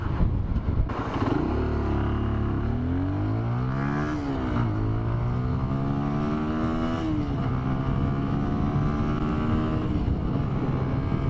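A Keeway motorcycle (RKR or RKF) ridden around town, its engine humming steadily and rising and falling in pitch through gear changes, loud and close, with wind noise and no talking.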